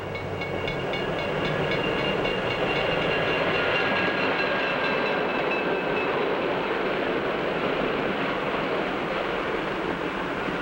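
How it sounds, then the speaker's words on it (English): A 1950s passenger train runs along the tracks, with a steady loud rumble of wheels and carriages and faint rhythmic clatter, plus a thin high whine over the first few seconds. No voices. "the train is approaching a station"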